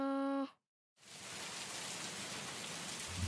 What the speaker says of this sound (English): Oh Allah, let the rain be the kind that sustains.